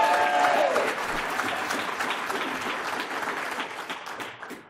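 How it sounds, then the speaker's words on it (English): Audience applause at a labor union program event, a dense wash of clapping that stays steady and loud for several seconds, easing slightly toward the end, with a brief voice near the start. "She got a pretty good applause"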